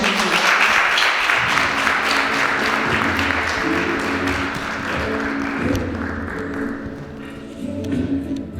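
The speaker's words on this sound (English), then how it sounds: "Please give a round of applause for Val and Bree asking those questions" Sustained audience applause at a community event, loud and dense at first, then thinning and tapering off toward the end while low music-like tones run beneath.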